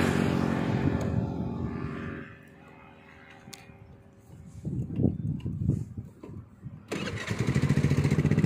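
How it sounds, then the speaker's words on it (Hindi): A scooter engine in rural India is cranked with a short stuttering starter burst, then catches and settles into a loud, steady running note close by. "बाइक से, स्कूटर से जा रहा हूँ मैं।"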